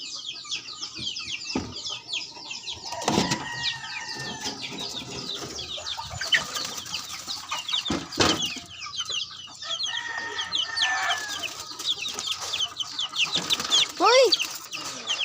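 Chickens clucking continuously in a busy flock, with overlapping calls, occasional louder squawks and background clatter, and people talking now and then.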